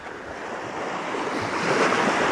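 Ocean surf breaking and washing onto a cold beach, a steady broad roar of waves that swells louder toward the end, with wind buffeting the microphone and no voices.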